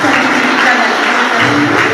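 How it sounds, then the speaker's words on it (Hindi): Loud clapping from an audience at a Raksha Bandhan celebration at a Brahma Kumaris centre, a dense steady roar of many hands with a faint voice and a tonal hum mixed in. "सभी जोर से ताली बजाएंगे"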